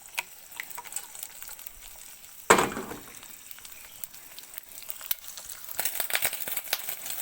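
Maggie noodle curry with egg is stirred and sizzles in a pot on a farm, giving faint frying crackle with scattered taps and scrapes and one sharp clatter near the middle.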